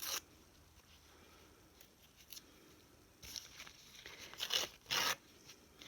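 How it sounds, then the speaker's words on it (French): Paper napkin torn by hand into small pieces, a few short dry ripping bursts, near and fairly quiet, with the loudest tears toward the end and no talking. "je vais venir déchirer mes morceaux de serviette"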